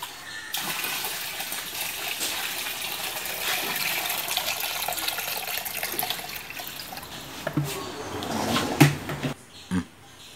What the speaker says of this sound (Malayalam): നമ്മൾ ഉണ്ടാക്കിയ ഫ്ലെക്സ് ബോർഡിൽ ഇപ്പൊ വെള്ളം നിറച്ചുകൊണ്ടിരിക്കുകയാണ്.